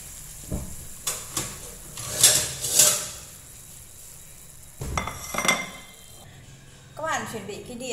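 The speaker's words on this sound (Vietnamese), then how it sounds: "Và bây giờ mình sẽ cho ra đĩa nhé." Garlic-fried dandelion greens scooped from a pan onto a plate: scattered utensil scrapes and bright metallic clinks with light sizzling between, close by, with a person speaking in the background.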